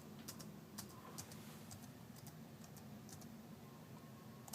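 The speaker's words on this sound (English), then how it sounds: "So I'm going to type password." Fingers tap out a short burst of keystrokes on a laptop keyboard, faint, close clicks in quick irregular groups over a low steady hum.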